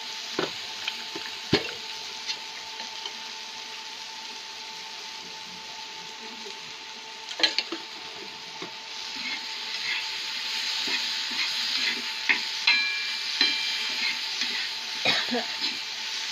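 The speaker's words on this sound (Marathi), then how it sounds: "असं हलवून हलवून मस्त मऊ करायचं. थोडं तेल पण टाकते त्याला." A spoon stirs green tomatoes softening in oil in a pan for chutney, with soft sizzling and scattered scrapes and clicks against the pan that come in uneven bursts, under occasional faint talk.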